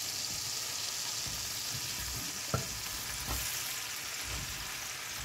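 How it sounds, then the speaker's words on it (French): Mushrooms frying in melted butter in a pan, a quiet continuous sizzle with a few soft clicks of a utensil, no voices. "Une fois que mon beurre va être fondu, je vais mettre mes champignons."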